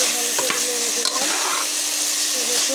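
Jackfruit curry being stirred in a pan, a steady close sizzle with scraping spoon strokes and a few sharper knocks over about three seconds, no voices.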